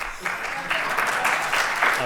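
Muffled applause drifts in from a neighboring conference room as a steady wash of clapping under a speaker's voice.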